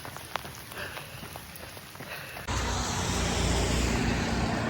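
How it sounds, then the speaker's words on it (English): Hail pelting down outside on a dark night, a steady dense rattle of pellets that swells abruptly halfway through into a louder, continuous roar of ice striking surfaces. "It's dark and it's hailing."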